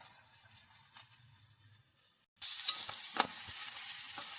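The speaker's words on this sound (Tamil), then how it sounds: "இப்போ நல்லா வதக்கி விட்டுட்டு ஒரு 5 மினிட்ஸ் நல்லா வதக்கணும்." Diced carrots, green beans and green peas go into a pan with turmeric and begin sauteing for kichadi: after a near-quiet start, a steady loud sizzle sets in with a few sharp scraping stir clicks.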